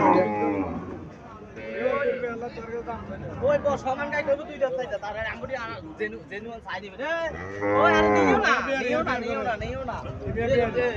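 An Indian Haryana cow lows in drawn-out moos near a Haryana bull calf, loud and close, with people talking over and between the calls.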